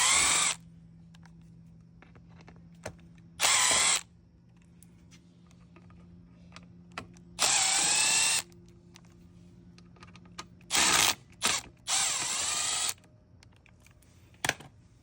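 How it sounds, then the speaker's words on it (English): Power drill backing out the chain cover screws on a Razor MX350 electric dirt bike, several short high-pitched whirring bursts separated by quiet gaps with light clicks and handling noises, close and loud. "when you unscrew those 5 screws, the cover should come off just like that"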